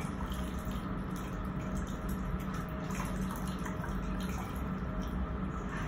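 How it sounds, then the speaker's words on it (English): Running tap water streams steadily while a denture is rinsed, a continuous moderate splashing wash with no voices. "Then when I'm done, I'm gonna rinse the denture."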